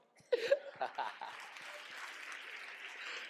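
A short burst of applause from a small audience, mixed with laughter and voices, fading into a steady patter of clapping.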